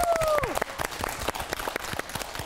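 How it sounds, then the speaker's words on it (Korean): Studio audience at a Korean television singalong music program applauding steadily, dense overlapping claps with a few sharper strikes standing out and a brief tonal cue at the start. "다시 한번 큰 박수 부탁드리겠습니다"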